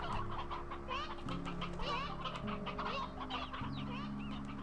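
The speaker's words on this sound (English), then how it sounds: "Ten roosters?" A flock of roosters in the Slime Rancher 2 video game clucks continuously in dense overlapping calls. The clucks sit over a steady layered tonal game soundtrack whose pitch shifts every second or so.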